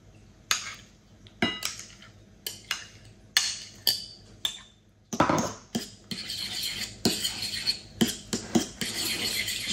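Metal utensil clinking and scraping against a bowl while sour cream is mixed into beaten eggs, a steady run of sharp clinks and taps repeating close and loud, with no talk.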